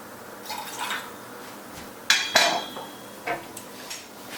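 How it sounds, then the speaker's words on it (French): A shot of bourbon poured for an IPA beer cocktail: a brief, soft liquid trickle, then sharp glassy clinks and taps of bar tools, followed by a few lighter knocks, all close and quiet. "Le bourbon ça va être tout simplement un shot, donc 3 centilitres."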